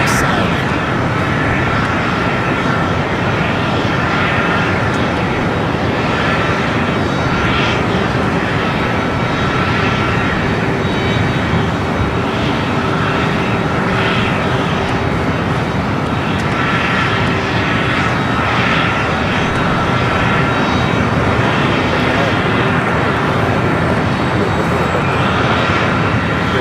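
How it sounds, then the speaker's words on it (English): A Cessna Grand Caravan arriving at LAX airport gives a loud, continuous aircraft engine roar that swells and pulses slightly as it passes, with a faint voice underneath. "Let's see if the 24-hour cameras grab the Cessna Grand Caravan coming from Imperial Flight 807"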